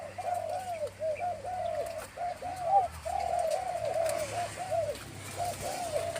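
A pigeon being trained coos close by in a run of repeated soft, throaty phrases with short gaps between them, over low background noise and no speech.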